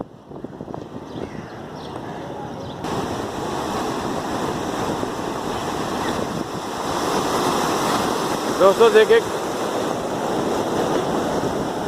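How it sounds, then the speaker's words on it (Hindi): Sea waves roll in with a broad, continuous roar that swells louder partway through, while someone talks briefly near the start. "ये समंदर की लहरें हैं"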